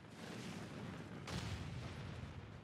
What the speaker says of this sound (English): God, there's so many explosions